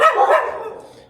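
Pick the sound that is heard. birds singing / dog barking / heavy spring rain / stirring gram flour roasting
dog barking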